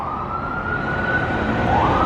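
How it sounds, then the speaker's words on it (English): Emergency vehicle siren on 42nd Street in New York, a loud, sustained wailing tone under steady street traffic noise, with no voices. "And sirens."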